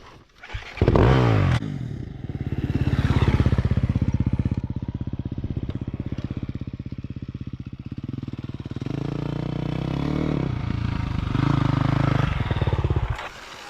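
A motorcycle on a riding course surges under hard throttle with a loud, rising engine note, holds a steady roar, then backs off sharply as it brakes and rolls into a turn.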